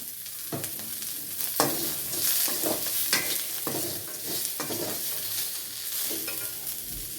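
A spoon scrapes and stirs grated coconut with a pinch of asafoetida and salt as it roasts over low heat in a pan, giving repeated close scraping strokes over a soft, continuous sizzle.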